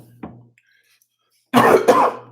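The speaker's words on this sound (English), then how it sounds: "still dealing with this cough." After a brief faint throat noise and a pause, two quick loud coughs come close together near the end.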